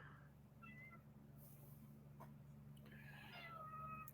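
A cat meowing in short tonal cries early on, then a longer, louder wailing meow near the end, over a steady low hum.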